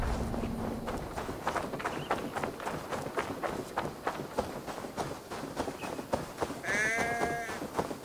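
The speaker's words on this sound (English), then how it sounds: "That sounds like a sheep." A distressed sheep in the video game Assassin's Creed Valhalla bleats briefly near the end, over a busy bed of footsteps and hoof-like clopping.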